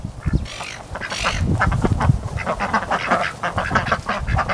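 Ducks quacking loudly and repeatedly close by in a backyard at early morning, a busy overlapping chorus of nasal calls with occasional goose-like honks, continuing throughout.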